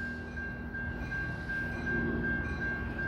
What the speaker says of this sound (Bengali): ট্রেনটি 1 নম্বর প্ল্যাটফর্মে আসছে।